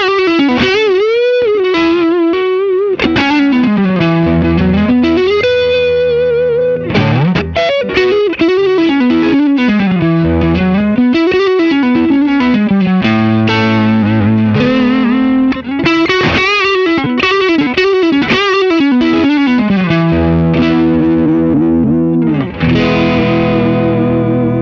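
An overdriven FOALS FS7 electric guitar on the neck pickup plays a warm, rounded melodic line with sliding bends and sustained notes, continuous and loud throughout.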